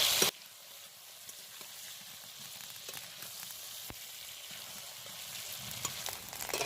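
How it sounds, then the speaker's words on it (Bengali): Three cut potatoes sizzle steadily in hot oil with salt and turmeric, a continuous close frying crackle broken by occasional scrapes and stirs of a spatula in the pan, no voices. "এবার কেটে রাখা তিনটে আলু এর মধ্যে দিয়ে দিচ্ছি"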